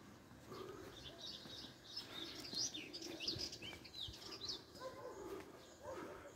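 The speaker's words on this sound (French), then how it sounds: "Je ne sais pas si vous entendez les oiseaux." Birds chirp and call outdoors in the grounds of a house in Sfax, Tunisia, with scattered high tweets and a few coos over low background rumble, moderately distant and continuous.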